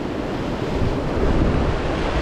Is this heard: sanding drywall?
no